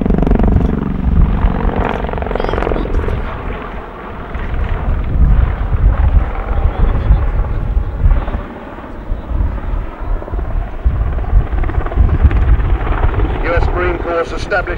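Loud, steady rotor and engine roar of a Bell-Boeing V-22 Osprey tiltrotor in a spiral descent, rotors near 60 degrees, rumbling and whooshing with wind buffeting, continuous throughout without a break.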